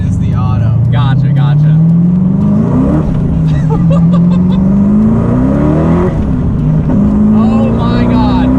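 A Hennessey Venom F5 hypercar accelerates hard but short of full throttle, its loud engine note climbing through gear changes, with talk over and between the pulls.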